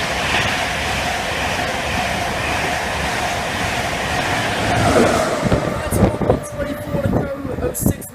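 A Glasgow Central to London King's Cross train runs through Grantham station, loud steady rumble of wheels and carriages close by that breaks into uneven clanks and bumps near the end as it passes, with a voice heard briefly.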